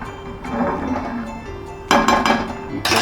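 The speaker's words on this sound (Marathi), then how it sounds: "आपण तवा ठेवला पॅन ठेवला गरमवाला" A hot tawa pan is set on the stove for toasting pav in butter for pav bhaji, and a few sharp metallic clanks and clinks ring out close by.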